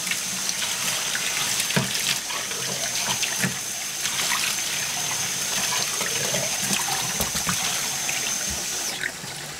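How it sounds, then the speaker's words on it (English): Warm tap water runs steadily from a faucet into a sink to rinse a glass wine hydrometer, a continuous splashing stream with small clinks, close and alone. "because it's the hydrometer, again, we're using warm water"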